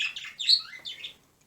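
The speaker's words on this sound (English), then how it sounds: "Birds, I swear, every time I pause the video, they stop chirping" Birds chirp outdoors in a short series of bright, high tweets. The calls are fairly close and clear, with a brief pause between bursts, against an otherwise quiet background.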